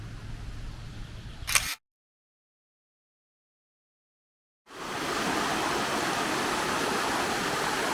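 A creek flows through a beech forest, its water a loud, steady broadband rush that fills the last few seconds after a short silent gap, with a brief sharp click earlier and no voices.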